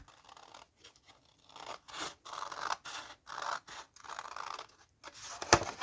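Scissors snip through folded paper along a crease for a stuffed envelope craft, a series of close, crisp rhythmic cutting strokes separated by brief pauses, ending with a sharp click.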